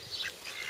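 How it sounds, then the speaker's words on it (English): Ducks quack at the Nga Manu Bird Sanctuary, a short burst of nasal calls close by, moderately loud against a light outdoor background, with no talking. "Hi, duckies."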